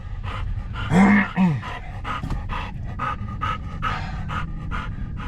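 A dog pants in steady, rhythmic bursts close by, with a couple of louder high whimpers early on, heard inside a vehicle with low road rumble underneath.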